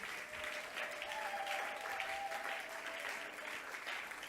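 A church congregation claps in sustained, even applause to acclaim Jesus, a steady wash of many hands with a faint voice or tone running beneath.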